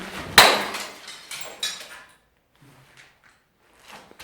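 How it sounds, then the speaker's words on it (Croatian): A glass bottle is smashed inside a supposedly haunted house, giving one loud, sharp crash with brief scattered debris that fades into near silence, followed by faint small knocks. "Znači idemo ovamo razbiti Aladinovu bocu."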